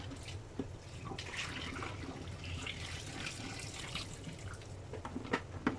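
Water pours from a container in a steady splashing stream while making preserved dried squid, gurgling and trickling continuously at close range with no voices.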